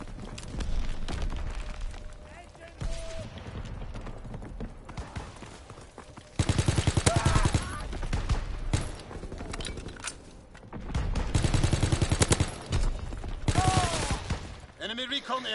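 Rapid bursts of rifle and machine-gun fire in Call of Duty WWII multiplayer, loud and close, coming in repeated clusters with clicks and mechanical handling sounds between, under a player's occasional talk.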